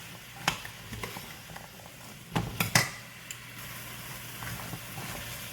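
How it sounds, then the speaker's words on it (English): Potatoes being stirred into vegetables in a pot for Manhattan clam chowder: a few sharp clanks of a utensil against the pot and soft scraping over a faint low background. "Go ahead and add the potatoes. Mix it with the vegetables."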